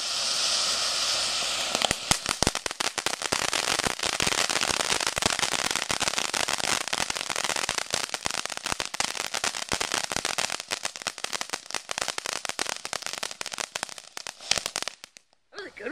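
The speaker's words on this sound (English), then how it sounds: "Wrong holiday firework." Fireworks crackle and pop in a dense, continuous barrage of rapid sharp bursts, loud and close, lasting many seconds before ending suddenly.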